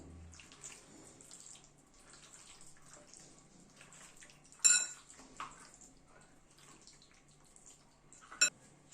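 Marinated mutton is mixed by hand in a bowl with spices and ginger paste, making faint wet squelching and soft rubbing sounds. Two sharper clinks of the bowl stand out against the otherwise quiet kitchen.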